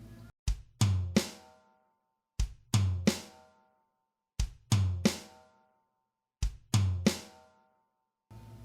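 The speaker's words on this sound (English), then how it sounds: "we're going to be playing our bass drum," A drum kit plays a linear groove, with bass drum, third tom and snare strokes. The pattern repeats four times in evenly spaced bursts of sharp hits, with clear ring-out between them and near-silent gaps.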